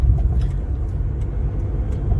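A vehicle engine runs with a steady low rumble throughout, fairly loud and close, with no talking.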